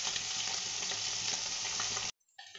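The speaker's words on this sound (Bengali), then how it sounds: "এবার আমি কড়াইতে মাছগুলো দিয়ে দিলাম, ভাজা হচ্ছে।" Fish seasoned with salt and turmeric frying in hot oil in a wok, a loud, steady sizzle lasting about two seconds before cutting off abruptly, with no voices.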